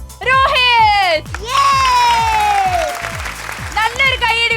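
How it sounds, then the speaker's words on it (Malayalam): Applause for a contest winner on a Malayalam TV show, rhythmic clapping under loud, high-pitched whooping and shouting voices. "നല്ലൊരു കൈയടി കൊടുക്കാം കേട്ടോ"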